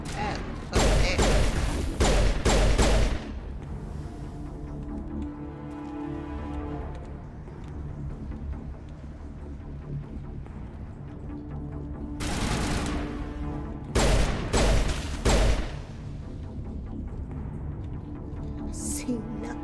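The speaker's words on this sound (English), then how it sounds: "What are you shooting at?" Gunfire in the game Mass Effect Legendary Edition: loud, rapid bursts of automatic shots in two clusters near the start and middle, separated by a steady mechanical drone, with voices talking in between.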